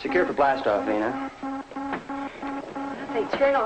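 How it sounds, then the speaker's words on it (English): A sci-fi spaceship's blast-off synchronizer pulses in a steady, evenly spaced rhythm of tonal beeps, loud and close, while people talk over it. "that noise is our blast-off synchronizer"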